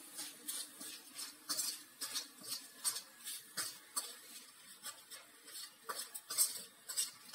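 Chickpea masala stir-fried in a pan for Pindi chole, with quiet, steady scraping and stirring scrapes repeating through the clip over a faint sizzle, with no talking.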